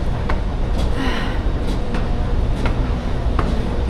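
A long-distance passenger train from New Orleans to New York, heard from inside a moving car: a steady rumble with periodic light clacks and knocks, and no one speaking.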